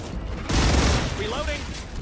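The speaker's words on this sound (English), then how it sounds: "Changing mags." Magazine change during a reload in the video game StarRupture: a short burst of mechanical clatter and a click amid loud, dense combat noise, with a brief rising whine near the end.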